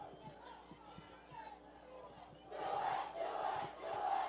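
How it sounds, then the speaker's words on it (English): A high school football crowd at a Pius X versus Grand Island game chants a rhythmic 'do-it' battle cheer late in the fourth quarter. It swells louder partway through over steady crowd murmur from a distance. "Pius getting hyped up here with their do-it cheer"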